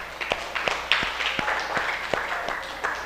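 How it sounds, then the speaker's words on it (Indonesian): Classroom applause for Mas Fahmi, a modest group of hands clapping unevenly with a few louder, distinct claps standing out from a soft continuous patter, moderately close. "Tepuk tangan buat Mas Fahmi"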